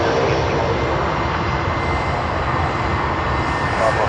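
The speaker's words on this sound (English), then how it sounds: "Oh, Piper Aztec." A Piper Aztec twin-engine light aircraft at Sydney Airport gives a steady, moderately loud engine drone across the short stretch, with a voice speaking briefly over it.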